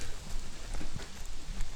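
Steady rain falls through a forest during an orienteering run, a dense, even hiss of drops on leaves and ground that carries on throughout with no voices.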